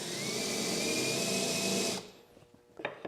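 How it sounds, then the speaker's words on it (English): A power drill whines steadily and loudly for about two seconds while boring a hole in wood, then stops, followed by a few faint scrapes and knocks. "what I'm going to do is bore each side."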